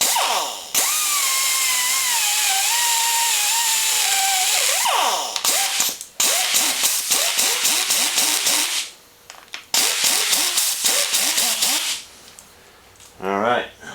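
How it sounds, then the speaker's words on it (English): A rotary burr in a power tool cleans out the leading edge of a broken knee on a K&T machine, with a long whining run followed by repeated short grinding bursts and pauses, loud and close. "we're going to take the rotary burr and we're going to clean that leading edge out there"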